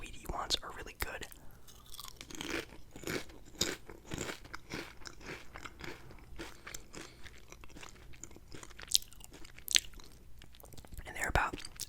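Close, crisp crunching and wet chewing of potato chips, including Lay's barbecue chips, in bursts of bites with soft whispered talk in between.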